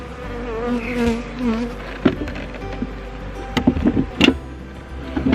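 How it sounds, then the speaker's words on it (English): Package bees buzzing as they fly in and out of a Layens hive, a steady close insect drone with individual bees passing near and rising in loudness toward the end. "They're flying in and out of the hive."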